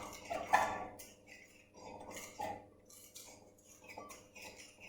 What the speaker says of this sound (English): you mix it together with a knife